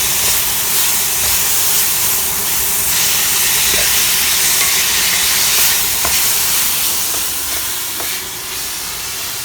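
Water poured into a hot wok with garlic and green beans sizzles and hisses loudly and steadily, a close, dense steam roar with faint stirring scrapes, gradually easing near the end, no talking.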